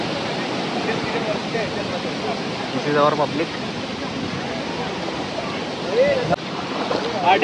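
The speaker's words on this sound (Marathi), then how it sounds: "इथे येतात धबधब्याचा आनंद लुटायला" A waterfall rushes in a steady broadband roar outdoors, with someone talking briefly over it and wind buffeting the microphone.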